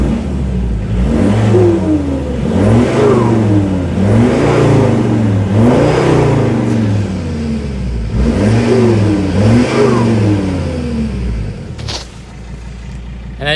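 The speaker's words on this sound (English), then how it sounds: "when you give her a rev and lift off, you can actually hear the turbo through that" A Ford Ranger PX2 diesel fitted with a 3-inch exhaust revs repeatedly in a steady rhythm of about six swells, each rise and fall carrying turbo whistle as the throttle lifts, loud and close.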